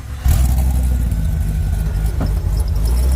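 A rally truck's engine at a Rockhampton off-road racing round runs loud and close, a steady rumbling drone with a slight surge near the end and no talking.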